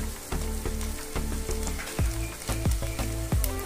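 Ground turmeric, cumin, coriander and Kashmiri chilli frying in oil for Bengali fish head curry, a close crackling sizzle punctuated by repeated spatula scrapes and taps on the pan, no speech.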